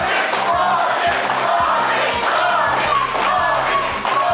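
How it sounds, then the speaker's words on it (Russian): Studio audience at a televised school quiz game applauding both competing teams, a dense, steady wash of clapping with crowd noise throughout, loud and close. "студия не устает аплодировать и одной команде, и другой"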